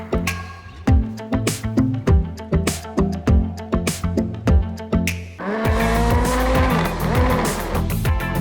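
An RC car with a badly positioned motor gives a rapid, repeated scratching rattle in a regular pulsing rhythm, close and fairly loud. Midway it switches to a denser, continuous whine with rising and falling pitch.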